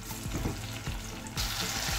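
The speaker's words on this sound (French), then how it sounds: "Je fais revenir mes oignons juste 1 minute" Onions frying in hot palm oil for an eggplant sauce, a steady close sizzle with occasional stirring scrapes and a brighter burst of crackle partway through.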